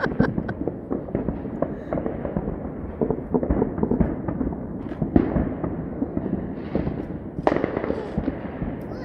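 Fourth of July fireworks bursting nearby in a dense, continuous barrage of loud crackles and overlapping pops, with a few sharper reports standing out.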